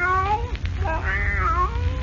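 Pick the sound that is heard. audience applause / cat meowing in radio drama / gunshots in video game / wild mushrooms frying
cat meowing in radio drama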